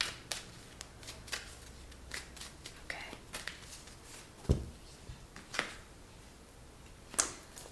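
Oracle cards shuffled by hand, with soft riffling and flicking taps scattered through a quiet room, a few sharper snaps as a card is pulled, faint murmuring beneath.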